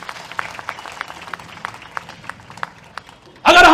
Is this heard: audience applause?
yes